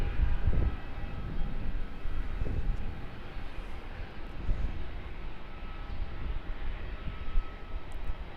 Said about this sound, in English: 717 that turned back shortly after departure in the last stream. QJet 1547. Departing once again off of runway